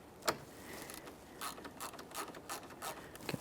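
Small Phillips bit driver backing out grille mounting screws on a 2010-2013 Kia Forte Koup, giving faint repeated ratcheting clicks and rubbing bursts, close and quiet with no talk.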